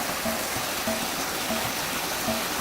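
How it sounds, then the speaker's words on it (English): A creek flows over rocks with a steady broadband rushing hiss, constant and fairly close, with faint repeated tones beneath and no voices. "this is the same water flow here."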